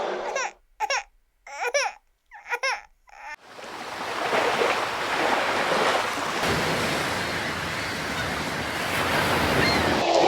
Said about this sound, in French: on est sur la plage, face à nos bateaux